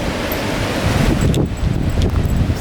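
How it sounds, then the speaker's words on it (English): Steady wind roars and buffets close to the microphone, a dense rushing noise with faint rustling and no voices. "It's pretty windy out here."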